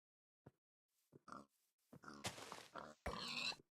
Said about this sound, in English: There's a third pig around here.